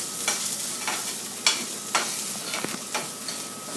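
Onions sautéing in a pan, a steady broadband sizzle with several sharp stirring scrapes and clicks, close and moderately loud, with no talking.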